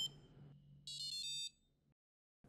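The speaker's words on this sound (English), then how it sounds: "You get sound notifications on a few events, such as power up and sensor calibration." A Crazyflie drone fitted with a buzzer deck plays a short electronic notification melody of rapid high beeps, clear and close, with a low motor-like hum before it and brief silence after.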